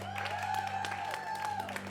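An improv comedy crowd applauds and cheers to back a film, steady clapping mixed with whoops and voices, fairly loud and close throughout.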